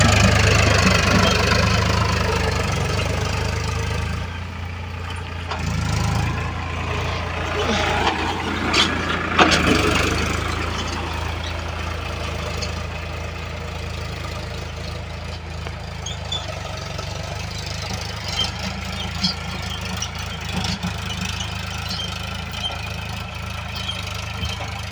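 A tractor engine runs at low speed over a stony farm field, a steady mid-pitched rumble with occasional knocks and rattles, continuous and fairly close throughout.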